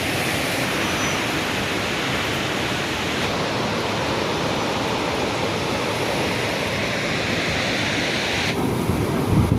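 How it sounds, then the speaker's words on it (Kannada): Unchalli Falls heard from a close viewpoint, a dense continuous roar of falling water that stays loud and even throughout, with no voices. "ತುಂಬ ಹತ್ತಿರದಿಂದ ಇವಾಗ ಉಂಚಳ್ಳಿ ಫಾಲ್ಸ್ನ ನೋಡ್ತಾ ಇರೋದು"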